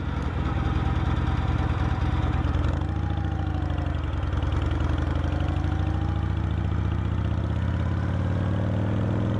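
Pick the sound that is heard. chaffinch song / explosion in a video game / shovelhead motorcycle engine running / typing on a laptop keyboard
shovelhead motorcycle engine running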